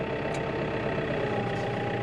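A vehicle engine on a farm runs steadily at raised starting revs before pulling away, a constant close mechanical drone with no clear rise or fall over the two seconds.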